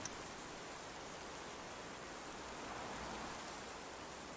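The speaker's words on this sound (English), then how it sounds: "I said the rain has picked up quite a lot." Heavy rain hisses steadily and evenly around a bus stop shelter, a dense, unbroken wash of falling water at moderate loudness with no voices.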